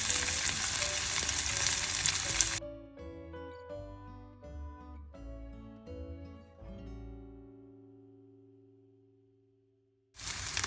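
Loud sizzling of coconut and spices frying in a pan for tinned fish curry, then it cuts out for a few struck, ringing tones that fade before the sizzle returns.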